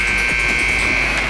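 A hockey rink buzzer at an over-50 men's league game sounds as a steady, sustained electronic tone over crowd and arena noise, holding for the whole moment.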